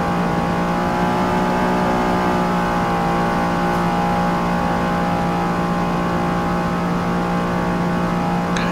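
A 1971 Plymouth Cuda race car in Forza Motorsport on a NASCAR-style Daytona oval, its engine holding a loud, steady high-pitched drone that runs unbroken throughout with no talk.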